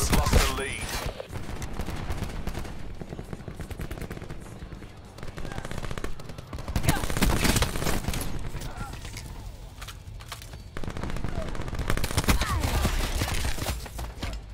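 Rapid automatic gunfire from the video game Call of Duty Black Ops 4 rattles in dense bursts, with mechanical reload clatter and game effects, loud and close, while players talk over it.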